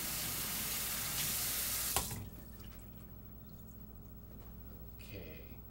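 Hands being washed under a running kitchen tap: a loud, steady rush of water for about two seconds that cuts off abruptly, followed by quieter room noise and a few faint drips or small handling sounds.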